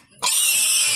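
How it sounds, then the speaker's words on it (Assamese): A piglet being carried away after purchase lets out one sudden, loud, sustained high-pitched squeal that starts abruptly after a brief quiet moment and stays close and piercing. "গাহৰি পোৱালি এটা নিছোঁ আৰু বহনি কৰিছোঁ"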